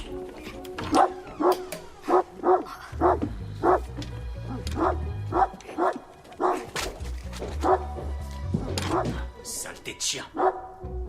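A dog barks repeatedly in a domestic family scene, with sharp, close, loud barks and yips in an irregular rhythm and a low rumble under part of the sequence.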